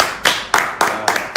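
Hands clap in sharp, evenly spaced bursts at a South-South political rally, a few loud close claps giving a brief round of applause.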